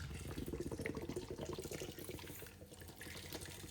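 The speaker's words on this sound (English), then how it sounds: "I'm just going to add in our can of Guinness." A can of Guinness pours into a pot of beef stew with stock, giving a steady close gurgling stream of liquid that runs continuously at a moderate level.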